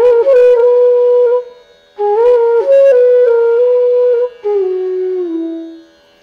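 A bansuri flute phrase played using both pancham holes, clear breathy notes in three sustained legato phrases separated by short pauses, loud and close, with a final note gliding down and fading.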